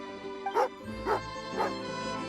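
Dog barking in the video game Genshin Impact: three short, fairly clear barks spaced about half a second apart over a soft game background, with no voice.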